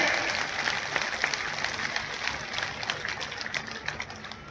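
Crowd applause at a state-level Maharana Pratap Jayanti celebration in Saha: dense, sustained clapping from a large gathering, steady and fairly loud throughout with no pauses.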